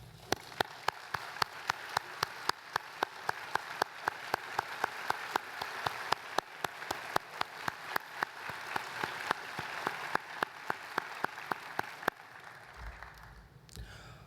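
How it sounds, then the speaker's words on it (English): An audience at a university address applauds military service members, veterans and first responders, a sustained dense crowd clapping with crisp individual claps in front, fading and ending near the close. "let's give them a round of applause."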